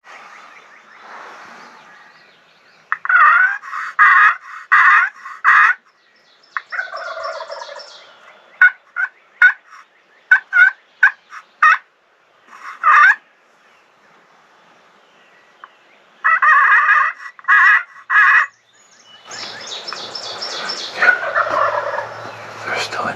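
Wild turkeys, at least three toms and a hen roosted in an oak tree near a field in New Hampshire, gobble in repeated loud rattling bursts, with short pauses between calls, ending in a rougher, noisier stretch of calling.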